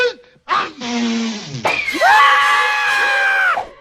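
Animated characters let out loud, sustained screams, one voice rising and cutting off before a second, longer shriek holds steady, with a sharp smack-like hit between them.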